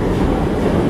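Class 508 electric train arriving to terminate at Liverpool Central underground station from Ormskirk, a loud continuous rumble of wheels and carriages close by.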